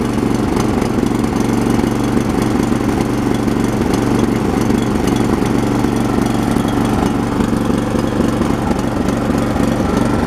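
A Toro Power Max 724 OE snowblower engine idles steadily while warming up, a close, continuous putter with a slightly uneven rhythm and no talking.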